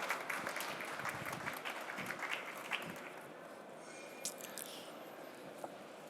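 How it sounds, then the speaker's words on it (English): Audience applause at an industrial metaverse panel discussion in Hannover, a steady wash of many hands clapping that thins out toward the end, with no one speaking over it. "Please give a warm welcome and a hands of applause."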